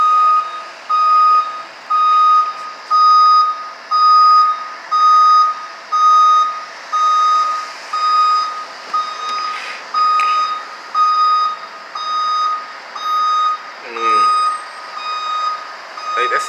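A Boston Public School bus makes a sharp turn while its reversing alarm beeps loudly and steadily in regular pulses for a long stretch, over faint engine rumble and street noise.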